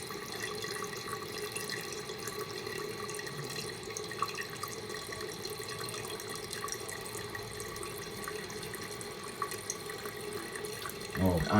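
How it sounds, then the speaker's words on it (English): An American Standard Cadet toilet tank with a new fill valve and flapper refills in an apartment bathroom, a steady hiss of rushing water running continuously at moderate level, with a brief louder splash near the end. "this fill valve and flapper are working pretty decently."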